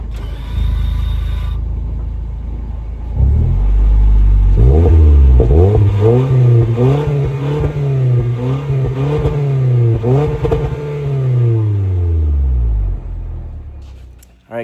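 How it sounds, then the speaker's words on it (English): A 2019 Toyota Corolla Hatchback with an aftermarket EOS exhaust revs hard several times, its engine note climbing and falling in repeated loud, close bursts before settling back to idle. "Finally got an exhaust in the car. The car finally sounds different."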